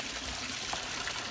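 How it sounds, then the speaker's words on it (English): Water trickles and splashes softly as it drains through the rocks of an aquaponics grow bed, a faint, steady liquid patter with no voices. "I dug down a little bit in the rocks where it's draining, just to minimize the splashing just a little bit."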